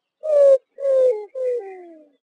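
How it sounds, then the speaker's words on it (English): A roadrunner call from a North American animal sounds game, heard as three separate low cooing notes, each slightly longer and more drooping than the last. It is close and clean against silence. "Roadrunner."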